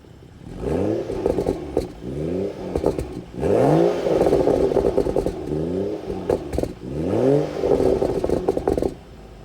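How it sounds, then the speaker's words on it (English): A 2016 BMW 435i Gran Coupe with the M Performance exhaust, only one outlet open, revs hard several times in a row. Each rev climbs into a loud, crackling roar, then drops back to a throaty idle, recorded close by. "let's get some exhaust clips."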